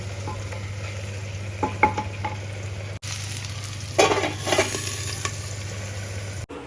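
Sizzling from a hot pan as vegetables and rice are stir-fried, with scraping stir strokes, bursts of louder frying midway, over a constant low hum.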